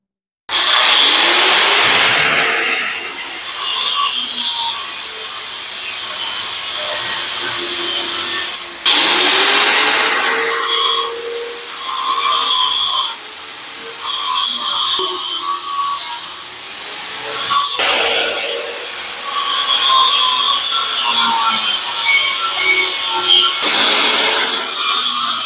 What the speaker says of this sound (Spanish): Voy a marcar la tubería y a cortar.